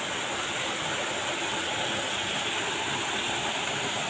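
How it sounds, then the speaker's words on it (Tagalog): Clear river water rushes steadily, a dense, even roar of flowing water heard up close and loud for the whole stretch, with no voices on top. "Malinaw ng ilog tubig guys."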